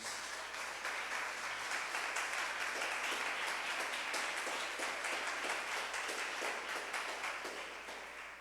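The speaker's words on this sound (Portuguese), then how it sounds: "Dê um aplauso ao Jesus." Church congregation applauding during a Portuguese-language sermon, a steady, dense wash of clapping that carries on evenly for several seconds and fades slightly at the end, with no talking.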